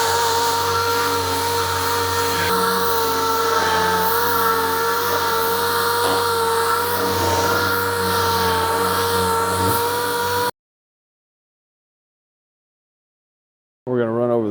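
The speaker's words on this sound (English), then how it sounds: "We'll hit the rest of this with 80 grit sandpaper and machine sand it off." A machine sander with 80 grit sandpaper working off the remaining paint on a car hood, a steady close whine with a humming drone for about ten seconds, then silence and a brief rising burst of the tool at the end.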